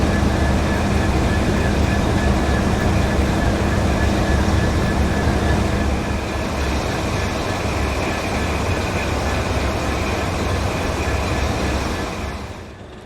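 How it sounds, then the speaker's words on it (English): Class 28 and D16 class diesel locomotives at a rail event, producing a loud, steady engine rumble and drone that holds for most of the time and then fades away. "Visiting alongside their Class 28 were their new build D16 class locomotive and Bullied Leader."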